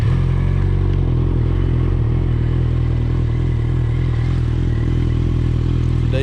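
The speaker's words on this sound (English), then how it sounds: "Turn my key on, put my kill switch on, and start the bike." A Suzuki GSX650F motorcycle engine idles steadily after starting, a close, continuous low rumble with a mechanical clatter and no speech.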